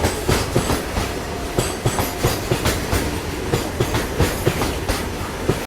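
A goods train with banker locomotives on the Sakleshpur ghat rolls past close by, its wheels beating a steady, loud clickety-clack over the rail joints with a heavy rumble beneath and no voices.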